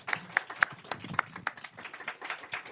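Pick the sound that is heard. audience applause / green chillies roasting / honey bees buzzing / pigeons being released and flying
audience applause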